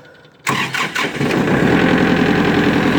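A Kubota L4701 tractor's diesel engine cranks briefly and catches, then settles into a steady, loud rumbling idle close by.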